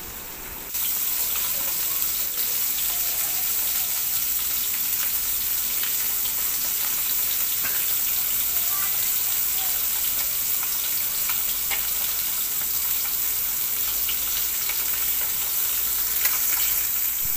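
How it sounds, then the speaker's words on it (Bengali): Koi fish frying in hot oil in a pan, a steady loud sizzle that starts abruptly and holds evenly with little variation. "এই তো দেখতে পাচ্ছ আমি হচ্ছে এখন মাছ ভাজতেছি"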